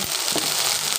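Bitter gourd, potato and onion stir-fry in a pan with a steady, loud hiss of frying and faint scraping of stirring, with no talk.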